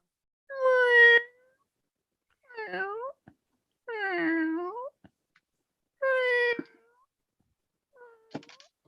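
A cat meows five times in separate, well-spaced calls, some drawn out and wavering, others short, close and clear with silence between them.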